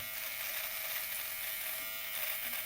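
A Xiaomi 3-in-1 electric trimmer shaves with a steady close-up buzz that holds unbroken throughout, bright and even, with no voices over it.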